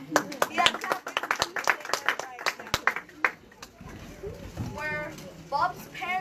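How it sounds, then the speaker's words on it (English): Children clap at a book fair, a quick scattered patter of small hands close by, with kids' voices chattering and calling out over and after it. "Guys, clap for the listeners"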